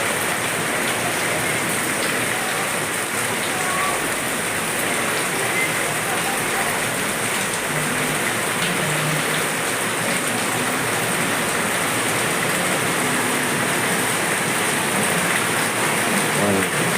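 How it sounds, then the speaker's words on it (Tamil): Heavy rain pours down in a constant dense hiss of drops striking surfaces, loud and unbroken throughout, with no one speaking. "நல்ல ஒரு மழை, பெய்யக்கூடிய மழைங்க"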